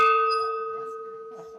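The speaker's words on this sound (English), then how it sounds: "was asked to ring the historic bell." A historic mission bell at Mission San Luis Rey, founded in 1798, gives one clear struck tone that rings on with a slowly fading hum, fairly close, with a faint murmur of voices underneath.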